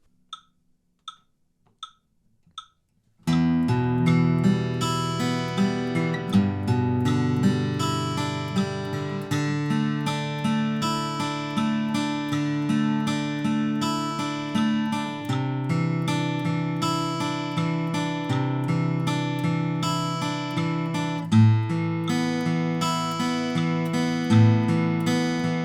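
Guitar playing a song's intro and verse at 75% speed, a steady fingerpicked chord pattern ringing out clearly and alone after a few soft count-in ticks.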